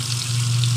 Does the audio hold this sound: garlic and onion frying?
yes